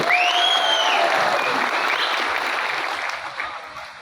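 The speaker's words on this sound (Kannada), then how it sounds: "ಸಾರಿಗೆ ಮಂತ್ರಿಗಳಿಗೆ ತಾವು ಮತ್ತು ಮುಖ್ಯಮಂತ್ರಿಗಳಿಗೆ ಚಪ್ಪಾಳೆಯನ್ನು ಕೊಡಲೇಬೇಕು" A crowd at a drivers' convention inauguration bursts into dense, sustained clapping for the transport minister and chief minister that gradually thins toward the end, with a faint voice rising over the start.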